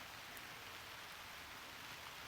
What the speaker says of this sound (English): This is a beautiful rain.